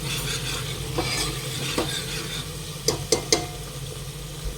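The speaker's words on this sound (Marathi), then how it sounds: "आता हे सगळं फ्राय करून घ्यायची पुन्हा छान मिक्स करून घ्यायचं आहे" Ground masala paste for mutton soup fries in a pan with a soft continuous sizzle near at hand, and a few sharp clicks of a spoon against the pan stand out in a quick cluster.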